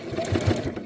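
A sewing machine stitches down a bias tape miter on a binding, a brief close rapid mechanical chatter with steady needle rhythm.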